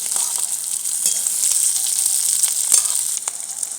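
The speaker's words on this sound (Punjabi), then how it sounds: "ਲਓ ਆਪਣੀਆਂ ਫਾੜੀਆਂ ਫਰਾਈ ਹੋ ਗਈਆਂ ਹੁਣ ਆਪਾਂ ਕੱਢਾਂਗੇ" Potato slices fry in a pan for a dhaba-style aloo curry, giving a continuous bright sizzle with a few soft crackles and no voices.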